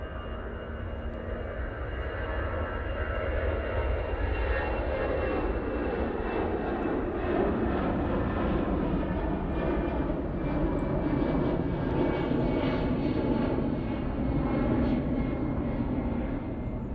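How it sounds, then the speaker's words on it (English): An EasyJet airliner on its takeoff roll at Manchester Airport, a loud continuous jet-engine roar that builds and holds steadily throughout, with no one speaking over it. "EasyJet now on the roll."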